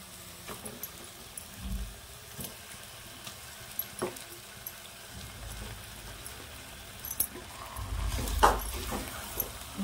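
Chicken pieces frying in masala in a pan for Malvani chicken curry give a soft, crackling sizzle with scattered pops and spoon scrapes. The sizzling builds louder near the end, and no one talks.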